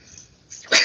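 A single short sneeze bursting out near the end, fairly close and moderately loud after a stretch of quiet room background.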